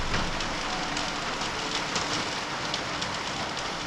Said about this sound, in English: what could be more atmospheric than the sound of rain on a tin roof?